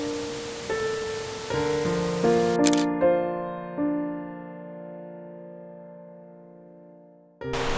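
A single-lens reflex camera fires during long-exposure waterfall photography in a mountain gorge: a sharp shutter click opens, then a second click closes it several seconds later, set against electronic beeping tones and faint background hiss.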